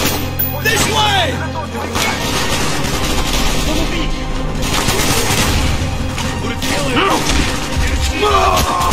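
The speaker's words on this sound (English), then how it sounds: "Wield a pistol, fire!" Loud, dense gunfire fills a Call of Duty: Black Ops 2 battle as a pistol fires alongside a constant barrage of shots and crashes, with voices shouting in the mix.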